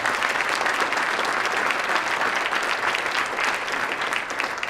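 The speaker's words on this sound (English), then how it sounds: "He deserves that round of applause" An audience claps at a fostering event, a dense and steady round of applause that keeps an even loudness the whole way through, with no voice rising above it.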